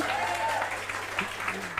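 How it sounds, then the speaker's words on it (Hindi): Students applaud during a lecture for CA and CMA students, a dense continuous patter of clapping close by with a voice audible underneath. "ये तुम बार बार तालियां बजाते हो ना"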